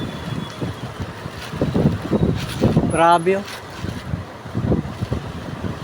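Strong gusty typhoon wind roars and buffets the microphone while a person speaks excitedly in Filipino over it, with a brief whistling rise in the middle.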